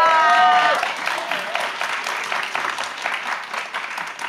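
Studio audience applauds for a singer on a Greek TV show set, a dense sustained wash of clapping that stays fairly loud across the clip, with voices and a brief tonal sound at the start.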